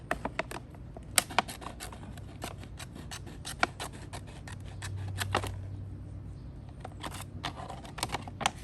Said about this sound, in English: I'll just take my snips, I'll cut it down